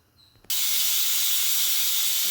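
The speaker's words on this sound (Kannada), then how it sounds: "ವಿಸಿಲ್ ಬಂತು" A pressure cooker cooking sambar bursts into a sudden loud steam whistle, a sharp hissing blast that starts abruptly and holds steady and close to the end.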